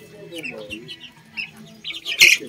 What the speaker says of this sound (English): This batch of chicks, they are very good, and they are very active also.